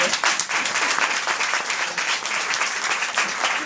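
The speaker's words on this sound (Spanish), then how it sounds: "Yo os pido un aplauso para que le quitéis los nervios que tiene" Warm applause from an audience at a talk in Acrola, steady close clapping filling the room for a few seconds after a 15-year-old student is introduced.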